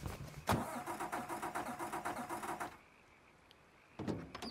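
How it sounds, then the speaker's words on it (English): A truck engine in the video game Mafia 3 cranks repeatedly in a rapid rhythmic churn without catching, then cuts out to near silence before cranking starts again. "Truck sound like it don't work."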